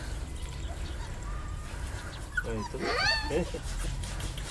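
Puppies in the Philippines give a short run of high, wavering whimpers and whines midway through, close by and over a noisy outdoor background.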